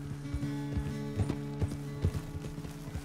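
Horse hooves clip-clop at a steady walking rhythm in the video game Red Dead Redemption II, each footfall clear and fairly close, with faint mechanical creaks of tack between steps and no talk over them.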